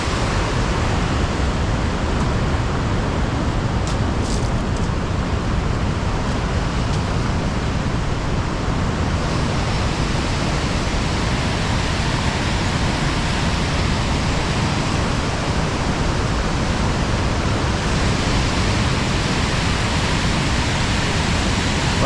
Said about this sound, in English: there's a view to the main waterfall going down between the two megaliths